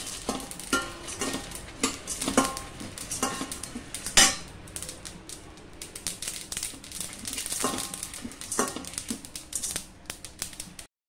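Sesame seeds fry in a pan for a brinjal curry spice mix, heard as a faint sizzle under irregular metallic clinks and scrapes of a utensil stirring against the pan, close and busy throughout.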